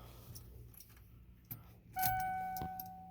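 Car ignition key jangling and turning on, faint clicks and key rattle followed by a sharp chime-like tone as the ignition switches on, close and quiet.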